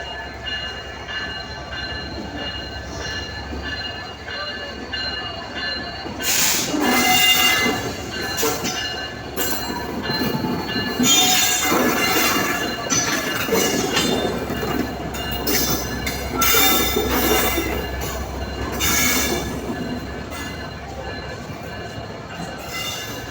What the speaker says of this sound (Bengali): চলুন কমলাপুর রেলওয়ে স্টেশনটা একটু ঘুরে দেখা যাক